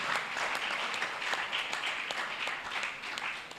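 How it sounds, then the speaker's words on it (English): Audience applause for a ship's captain during a World Envelope Day career fair panel, a steady wash of many clapping hands at moderate level with no talking. "Another round of applause, please, for the captain."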